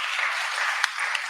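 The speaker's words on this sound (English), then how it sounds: "So another applause for them," An audience at a bioeconomy startup demo day gives a brief, steady round of applause, close and continuous for just over a second.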